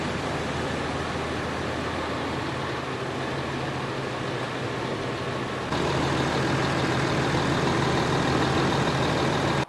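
A rebuilt 5.9 Cummins diesel engine runs in a truck, a steady low rumbling drone that grows slightly louder and denser partway through, with no talk over it.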